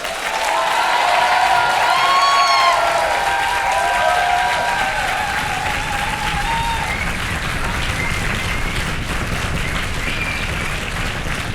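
A large conference audience applauding and cheering loudly, with whoops and shouts on top, settling into sustained steady clapping.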